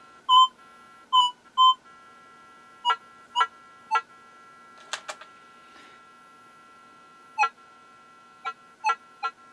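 A series of short electronic beeps from a Minelab CTX 3030 metal detector, tonal and spaced unevenly, with a few quick clicks in the middle, responding to a small button in an air test.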